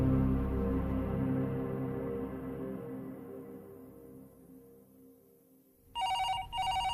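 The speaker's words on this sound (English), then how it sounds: "the phone rang" An old telephone bell rings twice in quick bursts near the end, following a fading low musical drone.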